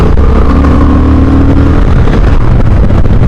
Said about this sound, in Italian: chiudiamo il gas, riapriamo, il cambiamento si avverte